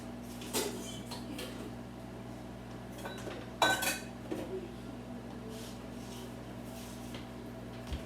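Bowls and dishes handled in a home kitchen while breakfast is made: a few quiet clinks and one louder clatter of crockery and cutlery over a low steady hum.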